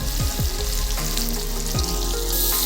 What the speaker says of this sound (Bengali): পেঁয়াজ কাঁচা লঙ্কা হালকা লাল করে ভেজে এবারে দিয়ে দেবো টমেটো কুচি